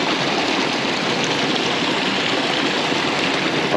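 Waterfall pouring steadily during a hunt for lost golf balls, a loud, dense, continuous rush of falling water that fills the whole clip without pause.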